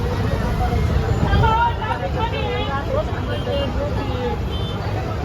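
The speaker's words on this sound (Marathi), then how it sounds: "खूप ट्रॅफिक जाम झाले" A traffic jam on the pilgrimage road from Trimbakeshwar to Pandharpur, heard from inside a bus: a constant engine rumble and road noise with vehicles around, under steady chatter from passengers.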